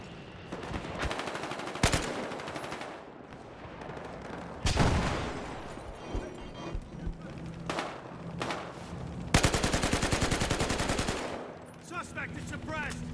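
Sustained automatic gunfire from Battlefield Hardline closed-beta heist gameplay, with dense overlapping bursts, sharp cracks and a few louder volleys, loud and close throughout with faint game chatter beneath.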